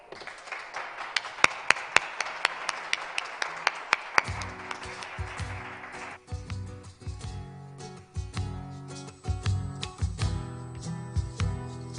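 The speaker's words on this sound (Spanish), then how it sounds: "Un fuerte aplauso." An audience gives scattered, fairly sparse applause for a group at the presentation of their new album for about four seconds, then the band's music starts and takes over.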